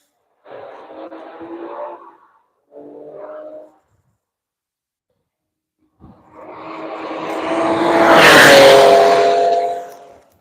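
A car on its lap at Road Atlanta during a Tire Rack One Lap of America session, heard first as two brief distant engine bursts, then after a pause a loud engine roar that builds, peaks and fades as it passes close by.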